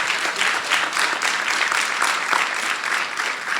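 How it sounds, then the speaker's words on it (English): An indoor audience at a community meeting about a sports and entertainment arena gives council member LaRuby May a short round of applause, dense even clapping that holds steady for a few seconds. "Please give her a round of applause for being here."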